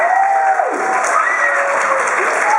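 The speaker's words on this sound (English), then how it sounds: "Give him a round of applause!" Game show audience clapping and cheering for a correct answer at an engineering-themed quiz event, a dense, loud burst of applause with a host's voice ringing over the crowd throughout.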